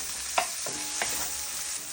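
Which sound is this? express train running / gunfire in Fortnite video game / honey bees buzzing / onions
onions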